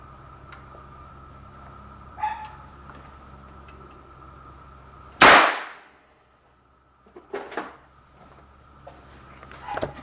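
A homemade cap gun loaded with a shotgun primer fires once with a single sharp, very loud crack that rings off and fades into near silence, with faint handling clatter before and after.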